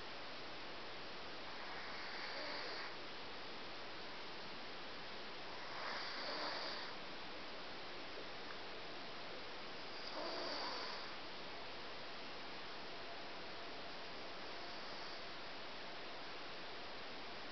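A sleeping cat breathes softly in a quiet room: faint, slow, airy breaths recur about every four seconds over a steady hiss of background noise.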